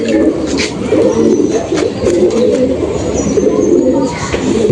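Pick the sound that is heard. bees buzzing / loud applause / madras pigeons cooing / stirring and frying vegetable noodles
madras pigeons cooing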